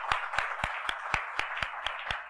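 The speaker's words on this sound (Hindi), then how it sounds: "So इसके लिए जोरदार तालियां।" Audience clapping at a televised talk-show segment, a steady run of about nine evenly spaced, fairly loud claps over roughly two seconds with no talking.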